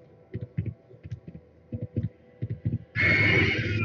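Rhythmic thumping hoofbeats of a dire horse in a video game give way to a loud, bright horse whinny at the end, up close and alone.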